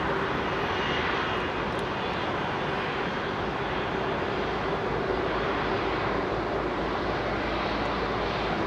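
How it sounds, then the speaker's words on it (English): An Aeroflot Airbus A321 airliner departs Heathrow, its engines a steady, dense broadband roar, loud and close throughout with no pause, mixed with gusting wind. "Aeroflot A321 coming out"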